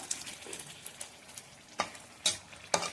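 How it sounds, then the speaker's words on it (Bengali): A bay leaf and dried chili fry in hot oil with a quiet crackling sizzle, punctuated by a few sharp, close stirring clinks. "এখন তেজপাতা দেওয়া হয়ে গেছে, শুকনো লঙ্কা,"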